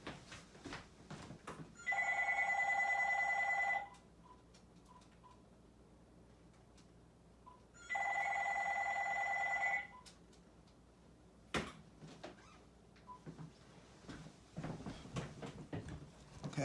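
A telephone rings in a classroom during a math lesson, two separate bursts of electronic ringing about two seconds each, spaced several seconds apart, with faint room noise and small clicks between.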